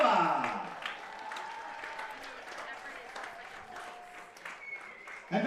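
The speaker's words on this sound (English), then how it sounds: "A round of applause for senior number 2, Ryan Zarella." A crowd applauds steadily throughout at a high school baseball senior night, with a voice speaking over the clapping and a whistle-like tone rising near the end.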